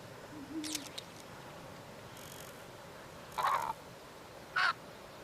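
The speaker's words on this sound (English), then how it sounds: "That's a bird somewhere." A bird calling in the video game Creatures of Ava, a few distinct hooting or cawing bursts spaced several seconds apart over a steady ambient hiss, moderately loud.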